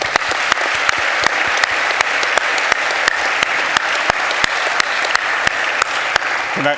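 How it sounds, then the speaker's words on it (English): A hall audience applauds the behind-the-scenes staff at an event honoring Mother Emanuel, a full, sustained roar of clapping with sharper individual claps standing out at a fairly regular pace throughout. "So we want to give them a round of applause."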